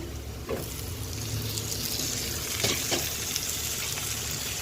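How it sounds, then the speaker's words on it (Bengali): Tomatoes added to onions already browned in a pan for rohu fish do-piaza, giving a steady close sizzle and frying hiss with a few faint stirring scrapes, no talking. "পেঁয়াজটা একটু ভাজা ভাজা হয়ে এসছে। এবারে এখানে আমি টমেটো দিলাম"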